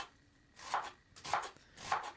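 A knife chops onions on a cutting board at home while making paneer kadai biryani: three crisp, evenly spaced cuts about half a second apart, close and clear over a quiet room.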